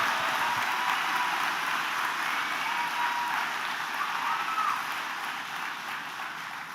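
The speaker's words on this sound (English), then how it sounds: "Please give a round of applause to our graduates and everybody who supported them" A large audience at a college commencement ceremony applauds the graduates, a steady wash of distant clapping that fades slightly near the end.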